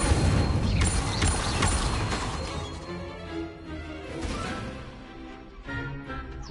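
Incendio fire spell cast in a Harry Potter video game, a loud whooshing burst with crackling rumble that swells at once and then slowly tapers off amid clattering game effects.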